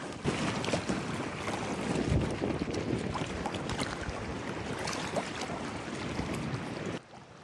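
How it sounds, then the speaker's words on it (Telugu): Lake waves lap at the shore in Madison, Wisconsin, in fall, heard as a continuous rushing wash mixed with heavy wind buffeting the microphone, cutting off abruptly near the end. "వాటర్ సౌండ్ వినిపిస్తా, వేవ్ సౌండ్ వినండి ఎంత క్లియర్ గా ఉంటుందో"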